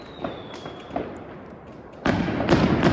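Fireworks set off by local people during Chinese New Year pop faintly at a distance, then a louder burst of crackling explosions breaks out and keeps going near the end.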